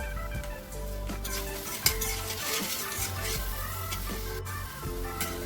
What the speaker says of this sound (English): We need to keep stirring it so it should not get burned from the bottom.